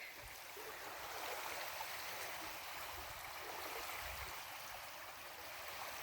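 Soft, steady wash of lake water at Phelps Lake in Pettigrew State Park, a faint continuous hiss and gentle lapping heard alone with no voices.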